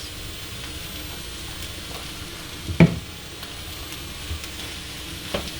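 Zucchini and onions frying in a giant pan for zucchini poblano, a constant crackling sizzle with one clear stirring knock partway through and a few softer pan sounds, no talking.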